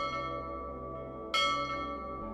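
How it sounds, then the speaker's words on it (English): A bell rings loudly with a sustained metallic tone, and a bright new strike lands partway through, its hum ringing on and fading behind it. "he heard a bell ring loudly."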